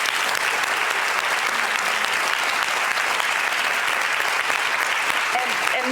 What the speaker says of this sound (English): We just have to take this moment to applaud you